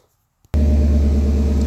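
2018 Chevrolet Camaro SS 1LE firing up after near silence, a sudden loud engine catch that settles into a deep, steady idle rumble, close by.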